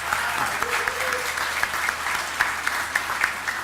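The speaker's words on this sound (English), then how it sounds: "give them a round of applause" An audience at an academies celebration event gives a steady round of applause, moderately loud and continuous, with a faint voice briefly audible beneath the clapping.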